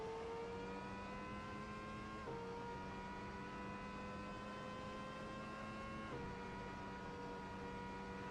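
A Lotus T125 with a Ferrari V10 engine sound in Assetto Corsa, high-pitched screaming racing engine held at high revs with two sharp upshifts, steady and fairly quiet, no voices.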